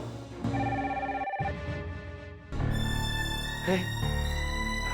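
A mobile phone rings with an incoming call, a repeating melodic ringtone playing loudly and steadily for several seconds, with background sound around it.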